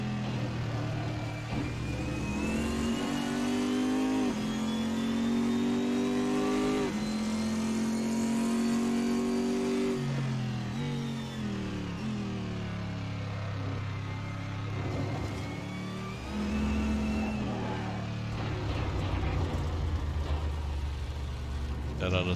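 A race car engine in an Assetto Corsa or Project Cars 2 racing game, revving up and down under throttle with rising and falling pitch, steady and loud throughout, with a voice talking over it.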